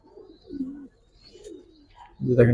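Giribaz high-flyer pigeons cooing softly nearby, a few low rolling coos in short bursts with a louder coo at the end.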